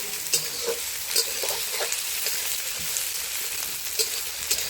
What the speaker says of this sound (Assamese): অলপ পিঁয়াজত অলপ ব্ৰাউন কালাৰ অহালৈকে অলপ লাৰিব লাগিব